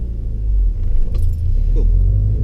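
A car engine is restarted during a driving lesson, a loud low rumble filling the cabin with a brief key jingle and clicks over it, no speech.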